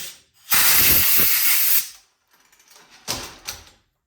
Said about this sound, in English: I'm going to use some compressed air just to make sure it's clear.